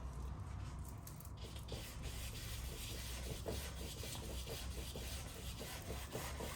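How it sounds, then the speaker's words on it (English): A 2-inch brush sweeps acrylic paint back and forth across a sky area, giving faint, soft, rhythmic rubbing strokes close up in a quiet room. "Brushing it back and forth to hopefully get some organic movement in that sky"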